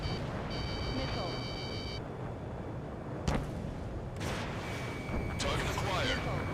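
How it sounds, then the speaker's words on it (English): Missile launches and explosions in the Ace Combat 7 flight combat game: a whooshing launch, a sharp blast burst, and further rumbling detonations over a constant engine drone, with warning beeps. "Missile launched."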